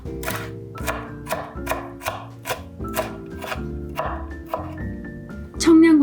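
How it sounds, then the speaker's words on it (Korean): Half a red chili is finely chopped with a kitchen knife on a board: about a dozen sharp, close, evenly spaced chops, with soft tonal sound in the background. "홍고추 반 개는 세로로 칼금을 넣어 씨를 제거해 주세요. 잘게 다져주세요."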